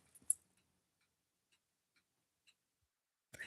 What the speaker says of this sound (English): You can hear the clock in the background.